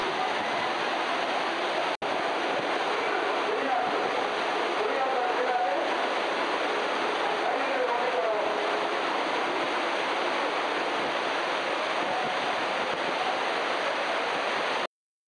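Courtallam (Kutralam) waterfall in full flow after heavy rain during the July season: a loud, steady, close roar of rushing water that fills the whole stretch without let-up.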